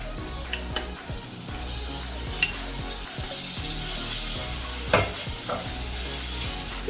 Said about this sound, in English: You need to fry the tofu until golden and crisp